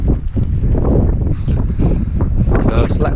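Strong wind buffets the microphone in steady, heavy gusts of broadband roar, loud and continuous, with a voice speaking faintly underneath, during a cold night wild camp on Kinder Scout.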